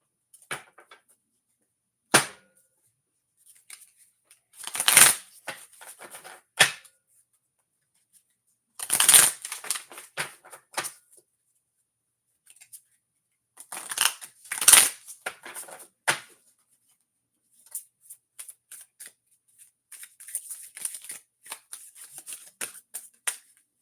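A deck of cards being shuffled and handled in several separate bursts of crisp riffling and flicking, close and clear, with quiet gaps between bursts.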